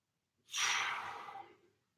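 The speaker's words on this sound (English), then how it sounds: "So big deep breath." A single big, deep breath taken during an upper-body prehab exercise session, a close, breathy inhale and exhale lasting over a second, rising quickly and fading out softly.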